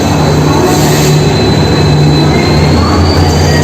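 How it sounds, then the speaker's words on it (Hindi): The Kamrup Express rolling into an Indian railway station, a loud steady roar of wheels and carriages with a faint high squeal, very close and continuous. "ये कामरूप एक्सप्रेस जो घुस रहा है"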